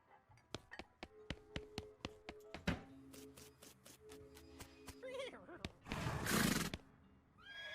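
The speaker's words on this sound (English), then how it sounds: "It's a new horse, Sekira." A horse in the video game West of Loathing whinnies loudly near the end, after a run of sharp tapping clicks and a brief rising squeal.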